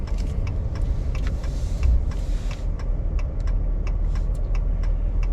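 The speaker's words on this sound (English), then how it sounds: "there's a fair amount of traffic, making it a little more difficult to turn onto Main Street here" Road traffic on Main Street in Bar Harbor streams past a waiting car, a steady drone of engines and tires with several nearby vehicles whooshing by in turn, no talk.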